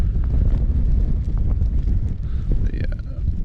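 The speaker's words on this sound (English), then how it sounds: "The wind is blowing a hoolie outside at the moment" Strong wind gusting around 45 mph buffets a bivvy bag on a wild hilltop before dawn, a steady low roar with rumbling buffeting close to the microphone.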